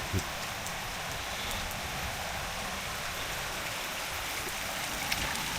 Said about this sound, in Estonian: Niisugune tavaline oovihm.